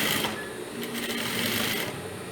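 A sewing machine stitching a 1 cm seam along a skirt pocket, its fast motor whir and needle chatter running continuously and close throughout.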